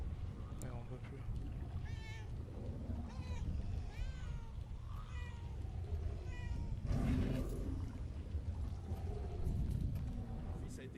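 A cat meows repeatedly in the video game Murdered: Soul Suspect, several short rising and falling cries spread through the clip, mixed with a low rumbling game ambience and someone talking over it.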